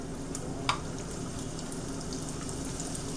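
Organ meat frying in hot grease, a steady close sizzle and bubbling crackle with one brief splash, no talk.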